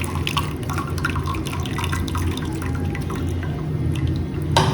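Water draining out of boiled lemons sitting in a strainer, a steady close trickle and patter of dripping liquid, running continuously with a brief louder splash at the end.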